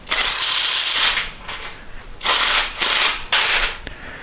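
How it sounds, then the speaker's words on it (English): A ratchet with a 17mm socket snugs carriage bolts on a cargo carrier, loud close clicking bursts in several separate strokes with short pauses between, no voices. "It has these carriage bolts and it takes a 17mm socket, and you just want to snug them up."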